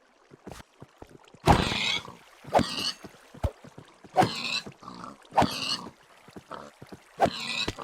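Pigs in a Minecraft pig farm give several short grunting oinks at irregular intervals, fairly close, over a quiet background.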